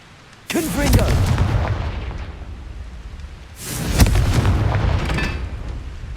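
Confringo spell blasts in Hogwarts Legacy, a fantasy video game: two loud booming bursts about three seconds apart, each followed by a rumbling fiery crackle, with no talking.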